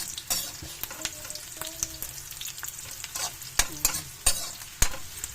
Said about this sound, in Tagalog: gisa natin ang ating mga sangkap guys para mabango ang sibuyas at bawang